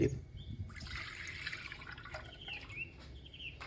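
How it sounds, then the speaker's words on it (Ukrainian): Milk poured into a pot while making an old Easter paska bread, a faint liquid splashing and trickling with small drips, quiet and close, no voices. "далі в каструльку виливаємо молоко, яке в нас залишилось"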